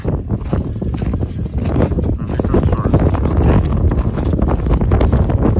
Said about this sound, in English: It's a little bit windy today, isn't it